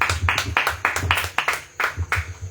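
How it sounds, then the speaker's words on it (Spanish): A church congregation claps in rhythmic unison during a sermon, five or six strong, regular beats of group clapping close and loud, with no talking over it. "Un aplauso a nuestro Señor."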